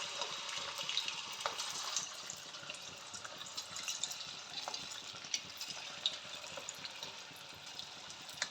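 Punugulu bajji batter sizzling in hot oil over a medium flame, a steady soft crackle with small pops and bubbling throughout, no voices.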